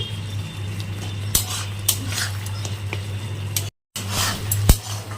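A spatula mashes olive chutney in a kadai, with scattered metallic scrapes and taps against the pan over a steady low hum, broken by a brief silent gap.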